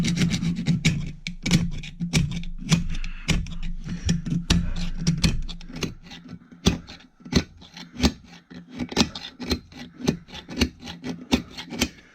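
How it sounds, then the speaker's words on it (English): A knife tip scraping and chipping rust off a broken exhaust bolt on a Yanmar 3HM35F marine diesel, heard as close, irregular bursts of dry metallic scratching and sharp clicks with brief pauses between strokes. "So what's left here is just rust. So I'm just hitting it with the tip of the knife"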